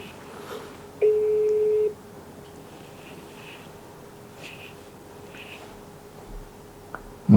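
A telephone call rings out: one flat electronic ring tone sounds for about a second. A quieter line tone follows, with faint clicks and rustles around it and a sharp knock at the very end.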